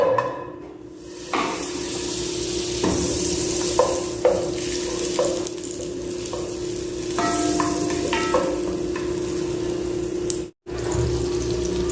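Butter sizzles steadily in a pan for sautéing, with scattered stirring clinks and scrapes over a continuous frying hiss and a brief dropout near the end.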